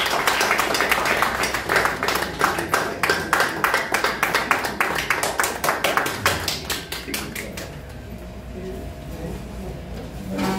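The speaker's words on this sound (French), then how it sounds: "On l'applaudit, s'il vous plaît." Audience applause after a call to welcome the organising committee president at a JCI professional orientation launch event in Guinea, with dense, rapid claps that thin out and fade toward the end.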